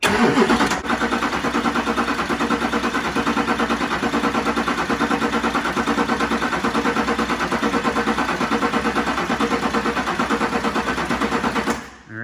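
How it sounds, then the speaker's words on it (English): A Duramax LMM diesel engine, just fitted with a loud turbo, runs with a steady, dense mechanical clatter that stays loud and even for about eleven seconds before cutting off; no talking is heard. "it's gonna go ahead and start turning that starter"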